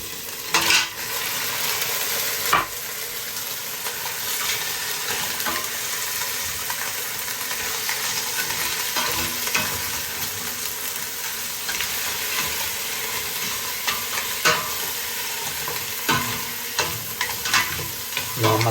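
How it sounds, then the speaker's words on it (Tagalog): Mud crab sautéed with onion and garlic in a pan gives a steady close sizzle, broken by frequent stirring scrapes and utensil clinks against the pan, with no talking. "ginisa na natin yung sibuyas bawang"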